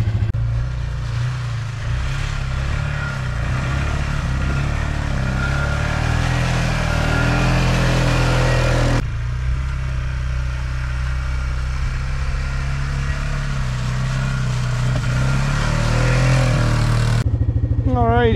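Polaris Trail Boss ATV engine running while riding through snow, a loud continuous droning rumble with shifting revs and rattling, close throughout with a brief cut midway.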